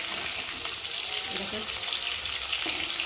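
Fish fries in hot oil in a wok with a dense, constant crackling sizzle close by, while someone talks softly over it.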